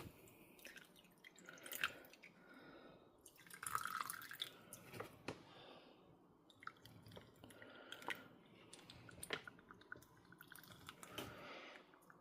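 Water poured from a small container onto fig and tropical fruit seed pots, quiet irregular drips and splashes scattered throughout, close and soft with no talking.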